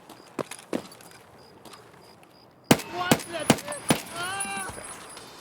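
Pistol shots in the video game Escape from Tarkov: a few sparse shots early, then a quicker run of five or six sharp cracks, close and loud, with a brief voice near the end.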